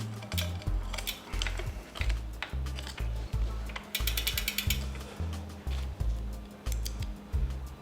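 A ratchet does up the chainring bolts on a Specialized Creo SL e-bike with a Mahle motor, giving a close, rhythmic series of sharp clicking strokes throughout.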